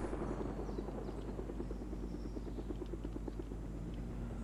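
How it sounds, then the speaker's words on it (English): A helicopter in the Fortnite video game drones steadily nearby with a continuous rhythmic rotor chop, sustained at an even level with no talking. "Someone's in a chopper somewhere."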